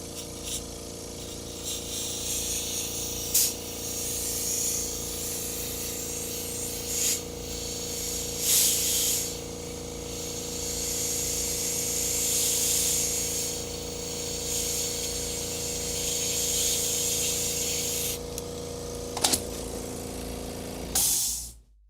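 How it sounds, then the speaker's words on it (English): Compressed air hissing in short, faint bursts across the top of a Sharp PC-1251 pocket computer, with a steady background hum and several brief louder puffs. "I think it would be smart to air compressor the top"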